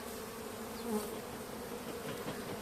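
Anatolian honeybees drone steadily at the hive as they come out of winter, a dense, continuous buzz heard close up, with no voices.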